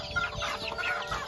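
Chicken clucking in a Philippine rural yard, a run of short, busy clucks close to the microphone, fairly steady across the moment with no talk over it.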